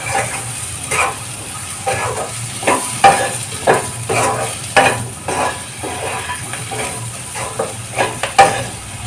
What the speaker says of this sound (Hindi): अब इसको चला लेंगे और ऐसे खुले कढ़ाई इसको पकाएंगे